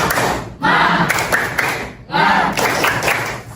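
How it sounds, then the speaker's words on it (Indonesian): Students in a junior high classroom perform a rhythmic spirit clap, with bursts of unison claps and thumps separated by short pauses and some voices chanting along. "Coba tepuk semangat dulu."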